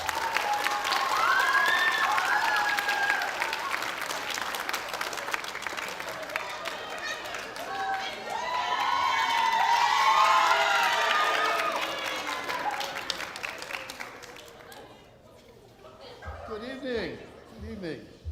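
An audience at a 7th and 8th grade school band winter concert applauds and cheers in two long swelling waves, then fades out as scattered voices take over.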